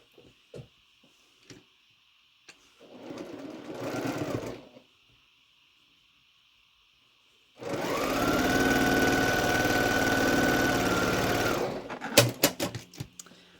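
A home sewing machine stitches quilt block pieces into a top row for a star quilt, running in one short burst and then one long steady whir, with faint ticks and handling clicks between runs.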